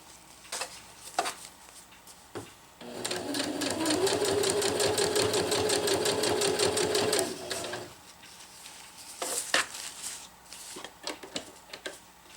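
Sewing machine stitching zipper tape onto a Nova Harmony jungle hammock, a rapid even mechanical whir lasting several seconds, framed by scattered handling clicks and taps before and after.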